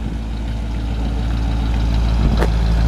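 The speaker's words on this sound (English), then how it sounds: "Dual exhaust sounds good, not loud, but just a nice little rumble to it." A 1958 AMC Rambler Ambassador Country Club sedan idling through its dual exhaust, giving a steady, close, mellow low rumble, with a brief sharper noise near the end.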